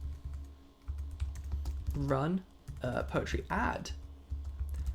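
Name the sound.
typing on a computer keyboard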